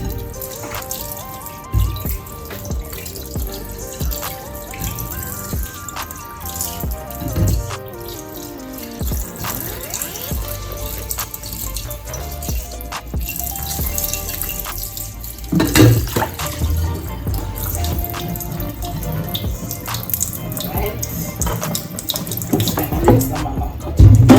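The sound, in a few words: tap water rinsing a cutting board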